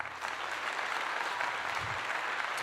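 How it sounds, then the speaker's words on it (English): A crowd at a talk show claps in a steady round of applause that lasts a couple of seconds and sounds somewhat distant and soft. "Round of applause for that."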